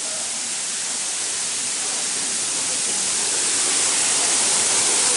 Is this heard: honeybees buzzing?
no